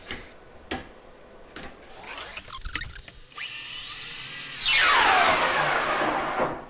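A belt sander motor spins up after a few clicks and knocks, its whine climbing, then sweeping down in pitch as the speed is set, running loud and steady near the microphone until a slight drop at the end.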